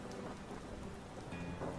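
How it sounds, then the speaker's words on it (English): Soft Zelda-themed rain ambience played as a relaxing track, a faint, steady hiss of rainfall with a low rumble beneath, quiet and unbroken. "It's got a little relaxing rain to go along with it."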